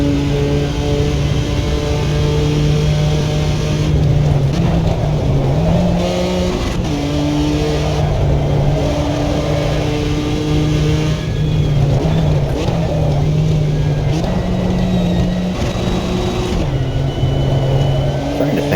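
A race car engine on a track drones loudly and continuously, with its pitch climbing through the gears, dipping at each shift, then rising again; someone talks over it.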